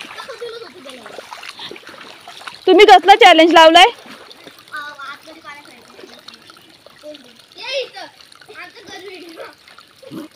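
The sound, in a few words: children splashing and playing in stream water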